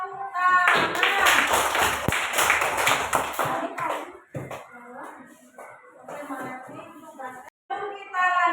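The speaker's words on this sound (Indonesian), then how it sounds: "Kita kasih tepuk tangan." Third-grade elementary schoolchildren clap together in a classroom, a loud burst of dense hand claps for a few seconds that fades out as a teacher's voice and children's chatter take over.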